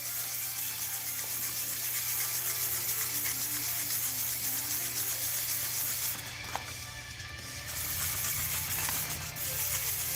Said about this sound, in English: These circles seem to really buff out the Dremel scratches.